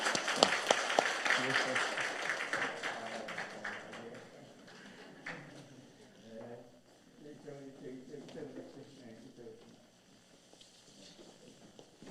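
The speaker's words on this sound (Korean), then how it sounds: "우리 다시 한번 힘차게 박수하겠습니다." Church congregation at a Korean Advent early-morning prayer service claps enthusiastically together for a few seconds, the clapping thinning out as a voice and room murmur take over.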